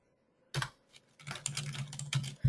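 Quick bursts of typing on a computer keyboard, light clicking keystrokes in short uneven runs with brief pauses, close and fairly quiet with no talking.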